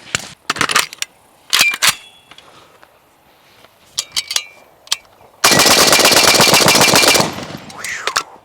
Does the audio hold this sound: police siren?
no